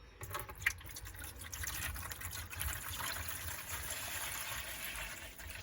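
Fresh water pouring into a pet reptile's dish, a faint steady trickle and splash with a brief drip early on, continuing evenly without talk.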